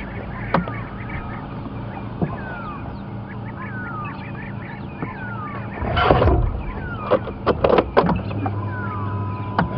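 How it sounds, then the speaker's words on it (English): Harsh, repeated grey go-away bird alarm calls ring out against a busy outdoor safari background, growing louder and more agitated midway with several sharp bursts. "Very upset grey go-away bird alarm calling."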